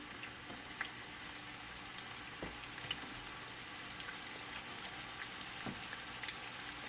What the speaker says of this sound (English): saute them until they get slightly caramelized. So Nagwa is going to put all the onions in